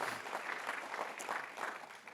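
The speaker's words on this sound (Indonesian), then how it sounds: "Tepuk tangan dulu dong buat kita semua." A church congregation at a GBI Gilgal Manado service claps together in a faint, brief patter of applause with a soft pulsing rhythm.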